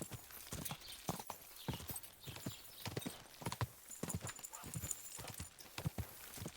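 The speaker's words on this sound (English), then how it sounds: "God, I missed my speedy horse from the last game." Rapid horse hooves clip-clop in a steady galloping rhythm, close and fairly loud, with occasional whinnying over the busy soundscape of the video game Kingdom Come: Deliverance II.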